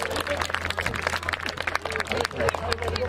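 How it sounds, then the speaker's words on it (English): A crowd at an open iftar gathering at Battersea Power Station claps for Fatima Zumra, the scattered applause mixed with lively chatter and voices talking nearby. "Can we have a special round of applause for Fatima Zumra here?"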